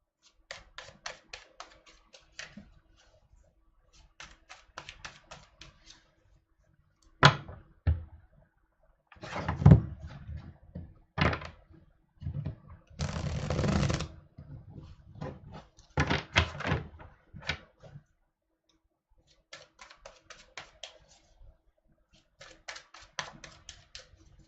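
Tarot cards are shuffled in repeated bursts of rapid riffling and flapping, close by, with pauses and a few louder knocks in between.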